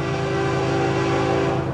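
FEC 109 freight train hauling auto racks passes close by, a loud, steady rumble of rolling cars with sustained tonal horn-like lines running through the whole stretch.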